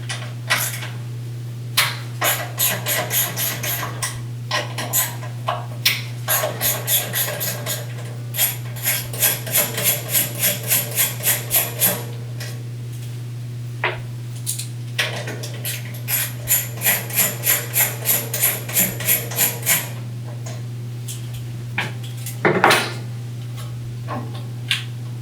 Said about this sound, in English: now I can go ahead and remove the ignition coil